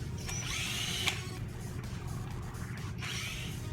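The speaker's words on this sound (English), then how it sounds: "I like using Doug's drill so my battery doesn't die." A power drill whirs up twice in short bursts, rising and falling in pitch, with a low mechanical rumble running underneath, during dashboard work on a 2015 Ford F-150.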